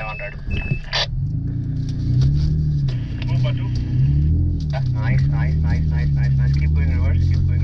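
A vehicle stuck in the sand at Liwa, its engine revving in long rising and falling surges while reversing, loud and close, with someone speaking over it.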